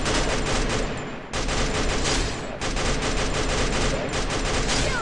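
Loud, fast bursts of machine gun fire in Free Fire MAX, sustained rattling volleys cut by two brief pauses, with game effects mixed in.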